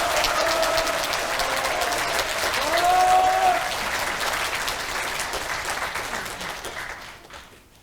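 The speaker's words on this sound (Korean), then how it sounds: "큰 박수, 뜨거운 박수 부탁드리겠습니다." An audience applauds in the National Assembly's main conference hall at a veterans' rally. The steady, dense clapping swells around the middle and then fades to quiet at the end, with a brief voice early on.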